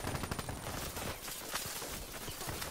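Rapid automatic gunfire rattles through a Black Ops 3 multiplayer match, a dense, continuous burst of shots with no pauses and no talking.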